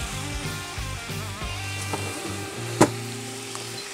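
A tomahawk steak sizzles in butter in a pan, a constant close frying hiss broken by soft clatters and one sharp knock partway through; no speech.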